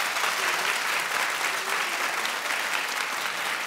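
Studio audience on a daytime talk show bursts into dense, steady applause that fills the whole stretch at close, even loudness, with no voices breaking through.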